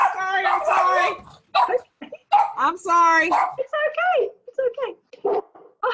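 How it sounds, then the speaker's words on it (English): Pet dogs barking at home, a run of loud, close barks and yips with whimpering between them while a person speaks soothing words over the noise. "that's my dog joining in now because he heard hers barking"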